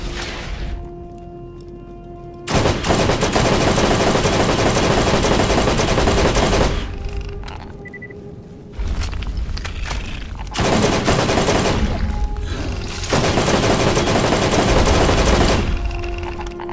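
Sustained bursts of loud, rapid gunfire aimed at Crawmerax's exposed back in Borderlands, several long, continuous volleys broken by short pauses, close and dominant with no talking.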